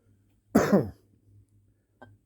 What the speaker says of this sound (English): the smoker's bong cough thing